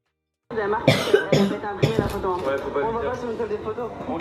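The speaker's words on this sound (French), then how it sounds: "tu peux arrêter de tousser" Close coughing, a few harsh bursts in quick succession, followed by continued throaty vocal sounds.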